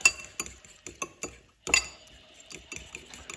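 A fork mixing tartar sauce in a bowl, clinking and scraping against the sides in a quick irregular rhythm, close and clear, with a brief pause partway through and no speech.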